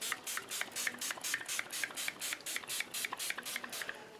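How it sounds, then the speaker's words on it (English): Short bursts from an aerosol can of fixative sprayed over soft pastel hiss in a quick, regular rhythm, close by and fairly quiet, one spray after another. "So let's spray this again."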